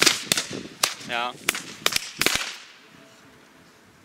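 Kellerfrosch jumping firecrackers from Crackling und Knall go off in a rapid series of sharp, loud cracks with a brief rising whistle among them, then the noise fades into quiet outdoor ambience.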